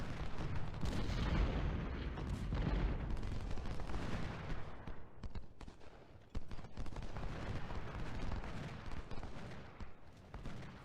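Artillery fire from Civil War cannons in the Ultimate General: Civil War game, heavy and continuous, with repeated booms and crackling volleys layered over a dense battle din.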